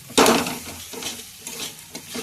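Banana flower curry with coriander leaves is stirred in a hot pan, opening with a loud scrape, then softer sizzling and a few more stirring strokes close by.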